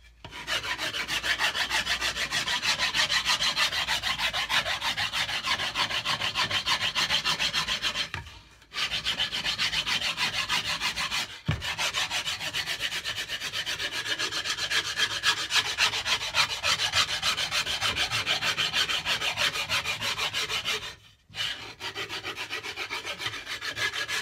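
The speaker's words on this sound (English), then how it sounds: "now what I do here is I get one of these sanding sticks" A rough-sided sanding stick rubs back and forth on the wood of a DelaCaster-style cigar box guitar. The rasping strokes are dense and continuous, close up, and broken by two or three brief pauses.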